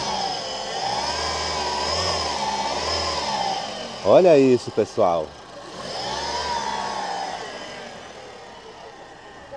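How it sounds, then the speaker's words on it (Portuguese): A car engine runs with a steady, fluctuating hum at a used car fair in Caruaru, Brazil, joined by a short burst of nearby talk midway before the engine carries on alone. "a amiga vai dar partida aqui no motor para a gente escutar o veículo funcionando."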